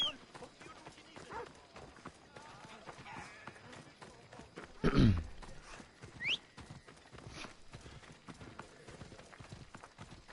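Horse hooves gallop in a steady rhythmic clip-clop in Assassin's Creed Odyssey, with a louder thump midway and a player talking over the hoofbeats.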